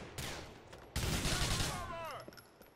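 Gunfire in Grand Theft Auto 4 during a Liberty City bank heist: a sudden loud burst of shots, then sustained rapid firing with a whizzing tail, close and dominant.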